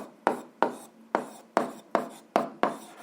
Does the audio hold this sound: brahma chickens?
no